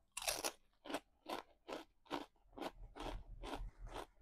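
Crunchy kangkong (water spinach) chips being bitten and chewed up close, a series of about eight sharp crisp crunches in a steady rhythm, quiet and alone.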